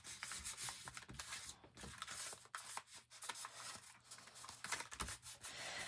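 Fabric being smoothed by hand over glue while making a sock gnome, a soft continuous rubbing and brushing with small scratchy bursts, close and fairly quiet, no talking.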